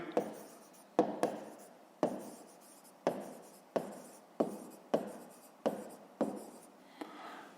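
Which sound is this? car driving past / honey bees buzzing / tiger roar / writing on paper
writing on paper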